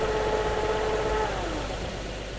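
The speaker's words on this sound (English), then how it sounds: "you're actually hearing the input shaft and everything like that just free spinning" A car transmission input shaft spins freely, giving a steady whirring tone over a low engine idle that fades and drops in pitch partway through.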